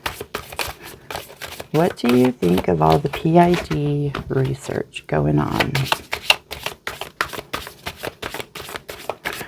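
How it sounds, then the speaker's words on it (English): Oversized tarot cards being hand shuffled, crisp repeated riffling and slapping clicks running throughout as someone speaks over them. "One more hand shuffle for each."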